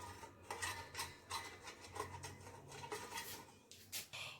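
Kashmiri chili powder being stirred into mustard oil in a bowl, a spoon scraping and clinking against the sides in repeated soft strokes, close and fairly quiet, with no talking.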